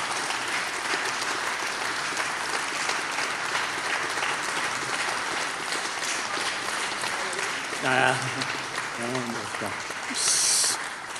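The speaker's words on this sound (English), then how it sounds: "So please, Miriam, Mirna, and Patrick, please come over here and give them a big warm applause." A crowd at a web technology conference applauds continuously and fairly loudly, with a few voices and cheers briefly rising above the clapping near the end.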